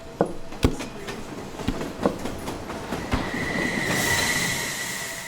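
A train approaches on rails, with sharp clacks of wheels over track joints giving way to a rising rumble and a high steady wheel squeal as it draws near. Loud and close, with no voices.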